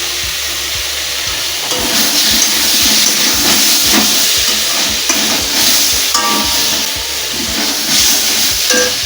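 Potatoes fry in oil in a wok with cumin-coriander powder, making a loud, continuous hissing sizzle up close, broken by repeated rhythmic scraping of a spatula stirring through the pan.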